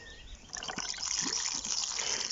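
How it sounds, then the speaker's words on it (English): Water trickling from above onto a tray of six dianthus seedlings, a soft steady dribble and patter that starts about half a second in and carries on without a break. "now it's really important to water them."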